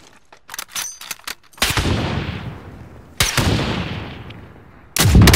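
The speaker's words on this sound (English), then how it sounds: "Down that guy who's shooting at you." Gunfire in the video game Warzone: a quick burst of sharp shots, then three loud booming blasts with long ringing decays, dense and close, with no talking.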